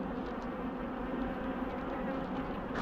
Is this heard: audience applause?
no